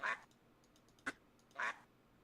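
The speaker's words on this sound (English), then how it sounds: "Pet ducks." Pet ducks in the Tiny Glade video game give two loud nasal quacks about a second and a half apart, with a short click between them and no talk.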